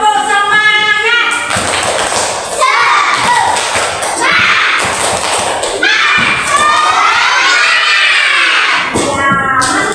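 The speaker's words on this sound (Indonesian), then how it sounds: "kita tepuk semangat dulu" Children in a classroom perform the "tepuk semangat" clapping chant, loud rhythmic group claps mixed with chanted voices and shouts, close and lively.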